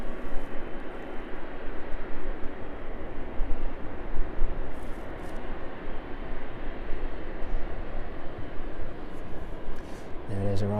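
An aircraft arriving at East Midlands Airport gives a broad, steady engine roar that fills the scene from start to end, with a voice talking over it.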